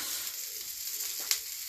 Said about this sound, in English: So I'm going to add a few onions.